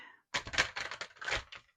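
Tarot cards being handled and shuffled up close: a quick run of crisp clicks and papery riffles lasting just over a second, with no talking.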